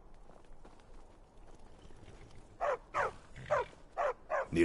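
A trained war dog in the Skyrim video game barks six times in quick succession, sharp and close, after a stretch of quiet ambient rumble.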